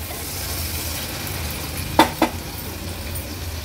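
Softened onion frying in oil in a pan for an Agri-Koli jackfruit seed dish, a steady low sizzle throughout with two sharp spoon scrapes against the pan midway.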